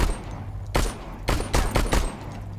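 In the StarForge video game, enemies fire beam weapons in a series of sharp, crackling bursts, several blasts in quick succession over a low background hum.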